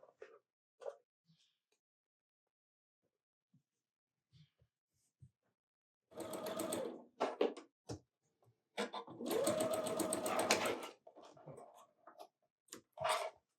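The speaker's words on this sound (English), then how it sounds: "We will sew our tree stand onto our tree." A sewing machine stitches quilt pieces for a snowman quilt, running in several short bursts of a few seconds each, with quiet pauses and small handling sounds between the runs.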